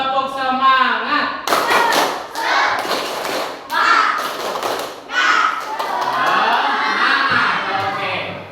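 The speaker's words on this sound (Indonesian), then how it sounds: "Kita mulai, kita tepuk semangat dulu. Tepuk semangat." A school class does rhythmic spirit clapping, with bursts of patterned hand claps and thumps from many children, mixed with chanting and shouting voices throughout.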